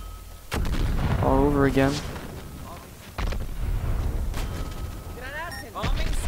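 Gunfire from an unlimited-ammo gun in the video game Dirty Bomb rings out in loud, spammed bursts at close range, broken by short pauses, with a player talking over it.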